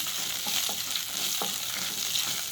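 Small cashew nut pieces sautéing in a pan, a soft steady sizzle with a few faint scraping stirs.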